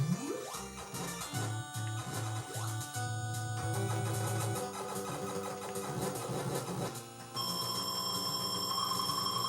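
Retro electronic telephone-style ringing from the NES game Metroid, altered by a Game Genie sound code, sounds over busy 8-bit music and game effects, with steady repeated tones continuing loudly throughout.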